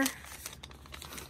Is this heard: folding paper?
yes